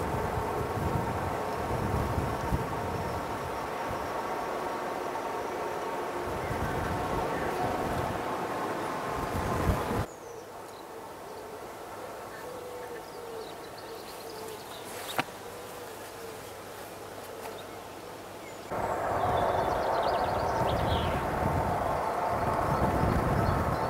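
Wind buffets the camera microphone outdoors beside a 1996 Morgan 4/4 1800, a steady rough rumble that drops quieter midway and then returns stronger, with no voices.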